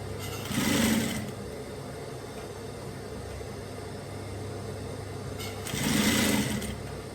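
Two short runs of a sewing machine stitching a bomber jacket band together with two other layers, close by over a steady background hiss.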